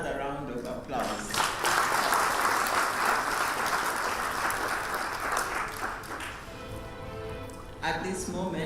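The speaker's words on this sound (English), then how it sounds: "We need to give her another round of applause" Audience at a county government policy launch giving a round of applause, a sustained, loud wash of clapping with a voice speaking over it before it fades toward the end.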